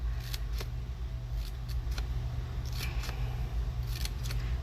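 Scissors snip through broom straw to trim it shorter on a sewn broom, several quick cutting clicks spaced unevenly over a low steady background hum.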